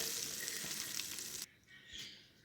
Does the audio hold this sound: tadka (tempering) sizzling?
yes